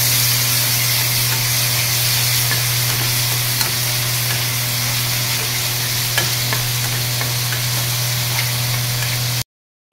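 Garlic paste fries in a pan with a constant loud sizzle and spattering hiss, occasional scrapes of stirring, and a steady low hum underneath, close by, then cutting off abruptly at the end.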